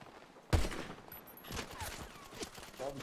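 Gunfire in GTA 5 roleplay during a hostage standoff, a sharp close shot followed by a rattling burst of rapid fire and further scattered shots, mixed with game noise.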